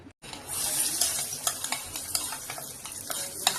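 Almonds, cashews and other dry fruits fry in ghee, giving a bright, steady sizzle close by, with a spoon clinking and stirring at intervals.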